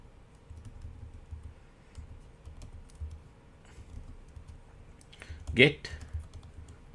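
Computer keyboard being typed on while entering a kubectl command, soft quiet key taps scattered under a speaking voice, with one louder burst of sound near the end.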